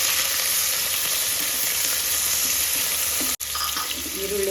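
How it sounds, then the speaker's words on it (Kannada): Chopped onions dropped into hot oil and ghee give a loud, continuous sizzle close up, broken by one very brief dropout before the frying carries on. "ಈಗ ಎಣ್ಣೆ ಕಾಯ್ದಿದೆ. ಮೊದಲಿಗೆ ಇದಕ್ಕೆ ಈರುಳ್ಳಿನ ಹಾಕ್ಕೊಳ್ಬೇಕು."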